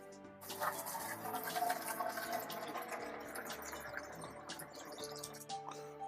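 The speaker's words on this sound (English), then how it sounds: "To drain the boiler, remove the drain pipe and open the pincher." Water runs and trickles steadily from the drained boiler of a Godrej Excella vending machine, a close, continuous liquid flow with small splashes and no voice.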